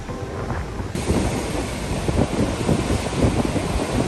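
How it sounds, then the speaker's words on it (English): Strong coastal wind on Achill Island on Ireland's Atlantic side buffets the microphone in a loud, continuous roar with surf-like rumble, steady and close, with no speech. "The wind on this side of the island is strong."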